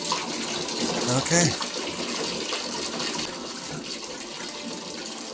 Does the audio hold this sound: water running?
yes